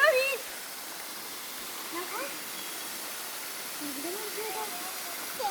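Thusharagiri waterfall in summer, running low, gives a soft, steady broadband rush heard from a distance. Faint voices murmur underneath.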